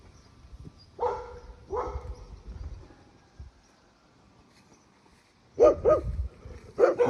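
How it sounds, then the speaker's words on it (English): Big dogs in a fenced backyard give short, separate barks. A pair comes early and a cluster of three follows later, at moderate distance with quiet gaps between them. "Big dogs. Seem like nice doggies, but you never know."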